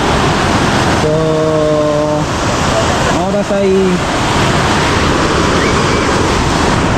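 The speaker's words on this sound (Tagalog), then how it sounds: "Pinagmamasdan yung ganda ng karagatan." Ocean waves at May Sabang Beach in Baler roar loud and continuous, with someone speaking briefly over the surf.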